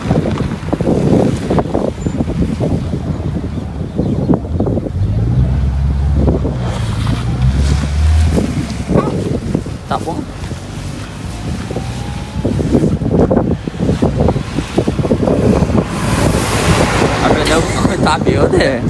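Strong wind buffets the microphone outdoors beside a truck being washed, a steady loud roar with gusts, while people talk and laugh over it.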